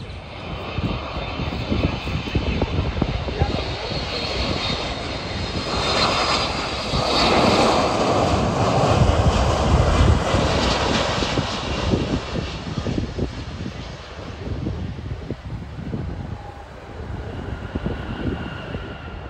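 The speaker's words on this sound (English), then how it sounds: "And the planes land about every 2 minutes or so." Jet airliners land at Miami International Airport, heard from the perimeter road as a loud, sustained engine roar that swells and fades as a plane passes overhead, with wind buffeting the microphone.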